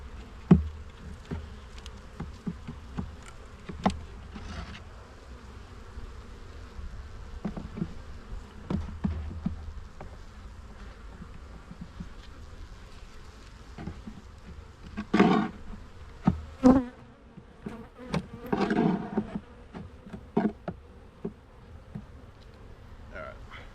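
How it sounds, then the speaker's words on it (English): Honeybees buzz around an opened hive during a spring inspection, a soft continuous drone with louder buzzes as individual bees fly close by, plus occasional faint handling sounds. "Bees are pretty calm right now."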